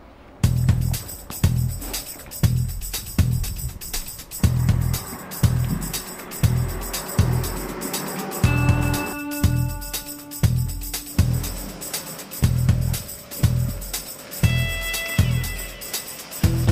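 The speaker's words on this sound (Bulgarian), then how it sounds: "Така че да отиваме да палим мотора." A Yamaha FZ6 motorcycle engine starting for the first time after winter storage and then running, with a steady, close, loud pulsing idle throughout.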